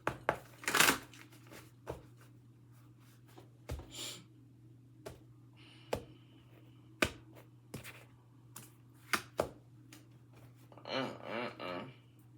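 Tarot cards shuffled by hand in a quiet room, a series of brief crisp riffles and snaps spread across several seconds, ending in a longer softer flurry of card shuffling, close and fairly quiet with no talking.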